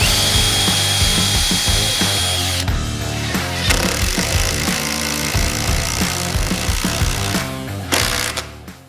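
A power driver runs deck screws into the top joints of DIY wooden garage shelves, a loud, close, continuous whirring drive with shifting pitch and brief pauses between screws, ending in a sharp stop.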